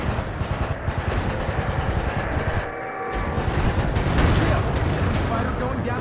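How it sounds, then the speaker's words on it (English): A fighter plane's machine guns fire in rapid bursts in the video game Warplanes, a dense rattling stream over the roar of engines, briefly cut off midway before resuming louder. "Okay, let's use machine guns."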